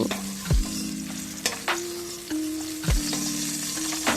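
Beans frying in oil in a pan, a steady close sizzle with a few sharp stir or utensil knocks spread across it, no voices.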